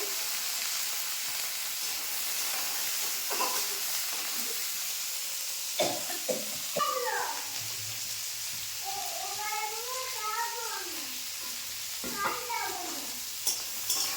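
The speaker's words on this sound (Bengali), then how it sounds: "এই যে আমগুলো আমগুলো আমগুলো একটু নেড়ে নেবো" Mango pieces sizzling and frying in a pan as they are stirred, a steady hiss with occasional scrapes, while a cat meows and a voice talks over it.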